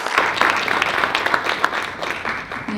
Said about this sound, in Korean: 우리 교수님도 큰 박수로 모시겠습니다.